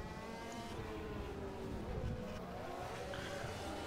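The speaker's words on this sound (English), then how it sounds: "the last few cars are coming around the corner and drivers are doing burnouts, warming up their tires at all cost" Formula 1 cars from the 1991 Spanish Grand Prix do burnouts on the formation lap, tires squealing over a steady engine roar that stays at a constant, fairly distant level throughout.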